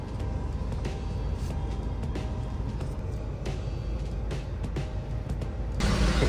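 Road traffic surrounds a manual car inching toward the Mahakumbh mela in Prayagraj, a low, steady rumble of engines with a brief louder swell near the end.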